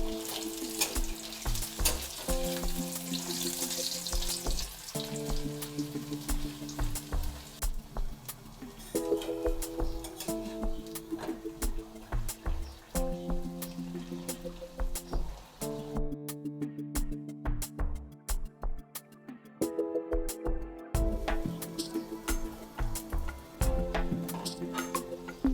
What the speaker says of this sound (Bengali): এইবার একটা একটা করে পুরিগুলো তেলের মধ্যে ঢেলে ভালো করে ভেজে নিতে হবে।